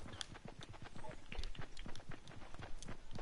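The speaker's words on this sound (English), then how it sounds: "I hear footsteps. Is that us?" Quick footsteps in the video game Fortnite, a steady run of soft, close thuds lasting the whole stretch, with a voice talking faintly in the background.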